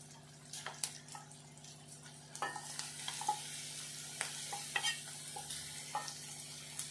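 Cleaned dried fish frying in oil, a soft steady sizzle with scattered clicks and scrapes of a utensil moving the pieces, close and fairly quiet, no voices.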